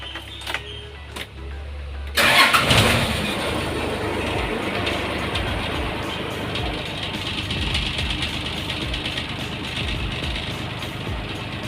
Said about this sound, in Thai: เรามาฟังเสียงสตาร์ท